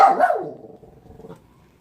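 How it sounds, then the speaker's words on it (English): A dog gives a sharp bark close by, then trails off into a low, rumbling growl that fades, with no voices. "she's barking and growling"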